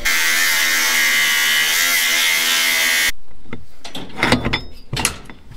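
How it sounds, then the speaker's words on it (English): An angle grinder cutting off a bolt while stacking livestock trailers: a loud, steady high-pitched whine for about three seconds that stops abruptly, followed by a few sharp metallic knocks and clatters. "We're just having to angle grind it off."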